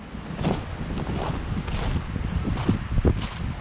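Strong, gusting wind buffeting the microphone out on the frozen ice during a frosty winter fishing trip, a loud rushing roar with uneven thumping surges and no voices.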